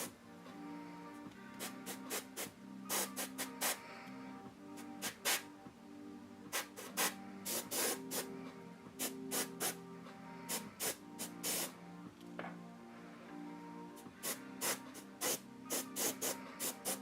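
Airbrush paint spraying onto a Wonder Woman armor mask, heard as repeated short hissing bursts of varying length, close and fairly steady, with no voices.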